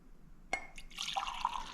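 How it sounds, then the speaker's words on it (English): Coffee is poured into a mug: a sharp clink at the start, then a close, quiet liquid splash and trickle that fills out over the last second. "I want to pour some of this coffee in my rad mug"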